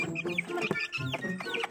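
Chickens on a small farm breeding pumpkin-cross roosters, heard nearby as clucks and short calls in uneven bursts, with several birds overlapping amid light background rustle.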